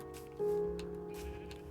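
Sheep bleat in Minecraft (Bedrock edition, hardcore mode): a single wavering, nasal bleat starts sharply and holds for over a second, close and clear over faint game ambience, with no speech.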